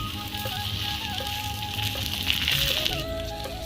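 A paratha sizzles in a little white oil on a hot tawa with a steady close crackle and hiss throughout, swelling slightly near the end with no talk.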